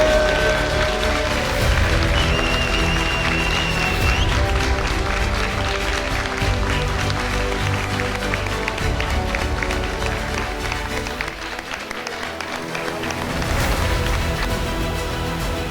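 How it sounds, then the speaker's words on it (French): An audience at a hackathon award ceremony claps and cheers for a winning team, loud sustained applause mixed with crowd noise and music, dipping briefly near the end before swelling again. "Faites un tonnerre d'applaudissements au groupe"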